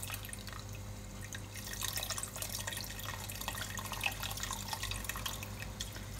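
Rum trickles and drips over sugar for a Christmas or New Year punch, a faint, close, uneven splashing with no one speaking.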